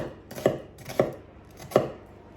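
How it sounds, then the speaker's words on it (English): A knife dices an onion on a cutting board, giving three sharp, close chops at a slow, even pace with no talking. "And then you're going to dice your onion."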